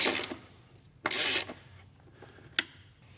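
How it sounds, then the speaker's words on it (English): Bolts holding a master cylinder to the firewall of a salvaged C8 Corvette track car are tightened with a very long socket extension, giving three short scraping ratchet bursts with quiet pauses between them. "Now we're gonna go ahead and take a ridiculously long extension and tighten these bolts up."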